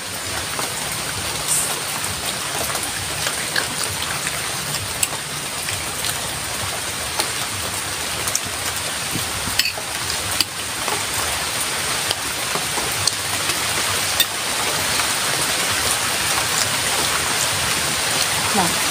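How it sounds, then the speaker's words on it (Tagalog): Heavy rain pours steadily on a rural home near a river, a dense, continuous hiss of drops with occasional louder splats, close and unbroken throughout. "Malakas ng ulan."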